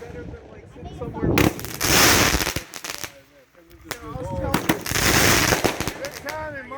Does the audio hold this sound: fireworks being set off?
yes